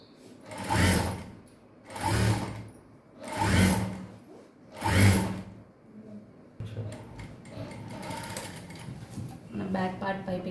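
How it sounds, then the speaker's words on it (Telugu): A sewing machine stitches piping onto a princess-cut blouse in four separate whirring bursts, then runs in a longer steadier stretch with faint clicks toward the end. "చిన్నగా కుట్టుకున్న తర్వాత మళ్ళీ నీడిల్ కిందకి పెట్టుకొని చిన్నగా పైపింగ్ కుట్టుకుంటే సమానంగా వచ్చేస్తుంది మనకి"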